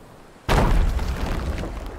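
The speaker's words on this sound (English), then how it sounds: "That was a big explosion." A big explosion in the pirate video game Sea of Thieves erupts suddenly after a quiet moment, a loud broadband boom that rumbles on and stays loud to the end.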